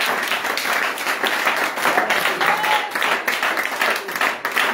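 A church congregation applauding and acclaiming during a revival service, dense continuous clapping mixed with crowd voices, loud and close throughout.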